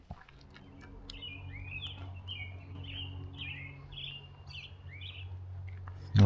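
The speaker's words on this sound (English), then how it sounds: "All them bird sounds." Small birds chirp and twitter in quick repeated phrases outdoors, moderately close, over a faint low background hum.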